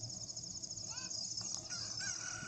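A chicken clucks in The Legend of Zelda: Ocarina of Time 3D, a faint short burst of squawking calls over a steady soft game background hum.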